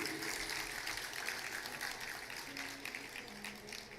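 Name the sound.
audience applause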